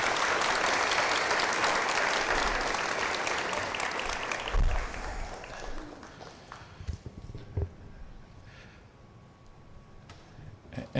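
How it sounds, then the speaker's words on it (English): An audience at a board meeting applauds in a loud, dense burst that tapers off over several seconds into scattered claps and room noise. "so give her a round of applause as well."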